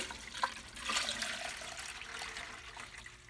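Engine coolant poured through a funnel into a vehicle's cooling system makes a faint, steady liquid gurgle and trickle, with a small splash near the start.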